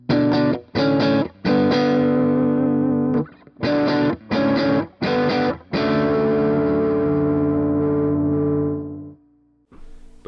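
An electric guitar runs through a KLON overdrive pedal, playing loud, fairly dense chord stabs in a choppy rhythm, then one long chord that rings out and slowly decays into near silence.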